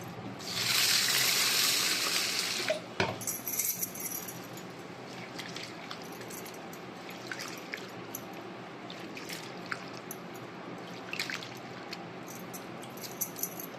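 Water pours steadily over lentils being washed for sambar for a couple of seconds, then a sharp knock follows, with faint drips and light rattling afterward.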